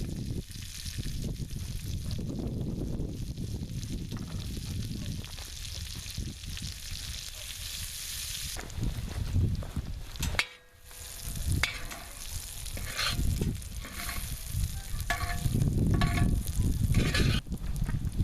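Onions and green peppers sizzle steadily on a hot cooking disc, a continuous close frying hiss with occasional stirring scrapes.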